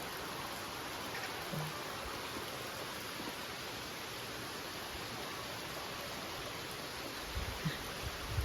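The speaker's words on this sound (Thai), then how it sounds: "ชมบรรยากาศตอนฝนตกนะครับ" Steady rain falls during the rainy season in rural Thailand, a constant even hiss with no pauses and no voices.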